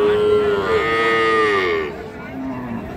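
A cow at a cattle market gives a long, loud, close moo with a falling pitch, followed by a shorter, quieter low call.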